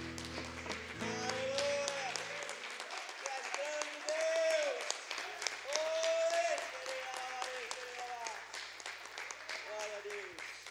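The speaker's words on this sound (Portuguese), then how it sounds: "Vamos dar uma forte salva de palmas ao nosso Deus." A church congregation applauds during a Bible class, with clapping running throughout beneath loud sung or spoken voices and music, a bass tone dropping out and returning midway.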